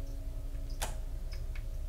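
A clock ticks faintly in Resident Evil 2 against a steady hum of game ambience, a few sparse clicks with one sharper tick standing out.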